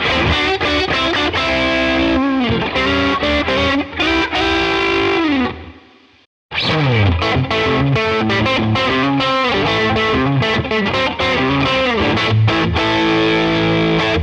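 A Fender Stratocaster on the neck pickup plays bluesy, distorted Texas-style lines with bent notes, briefly falling silent before launching into another loud, sustained phrase.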